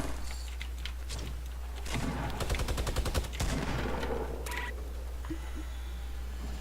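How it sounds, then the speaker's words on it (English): Gunfire in the Fortnite battle royale game, a burst of rapid shots around the middle standing out from a steady game background, sounding fairly distant and not aimed close by. "The shots are coming towards us, but they're not directed at us"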